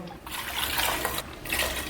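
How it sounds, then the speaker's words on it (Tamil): Water is poured steadily into a pressure cooker holding dal and brinjal, a continuous splashing hiss that briefly pauses before the pouring resumes. "அதில் 3 கப்பு தண்ணி ஆட் பண்ணிக்கலாம்"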